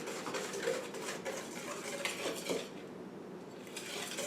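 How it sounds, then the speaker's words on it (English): Eggs and sugar for creme brulee being whisked in a bowl, a quiet continuous metallic clinking and scraping of the whisk with no talking. "He's going to keep on whisking."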